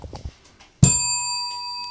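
A single bell is struck once after some muffled shuffling, giving a sharp, loud strike followed by a bright, sustained ring that fades slowly.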